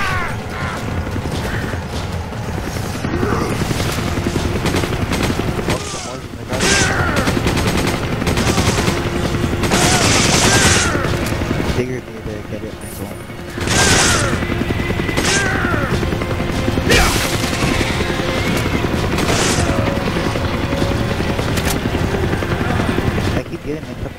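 Bursts of gunfire and mechanical clatter in Resident Evil 5 co-op play, intermittent loud volleys over constant game noise, with players talking throughout.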